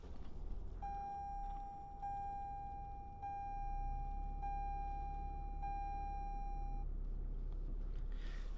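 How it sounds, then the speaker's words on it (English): A 2020 Toyota Corolla is started with the push start button: a soft electronic chime beeps at a steady, even pace, then a low engine hum sets in and holds steady near the end. "Foot on the brake. You're going to push that to start."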